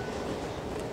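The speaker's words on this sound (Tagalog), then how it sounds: "ito yung MRT nila" MRT metro train in Taipei, a dense steady rumble of the carriage in motion, loud and close with no break over a brief second.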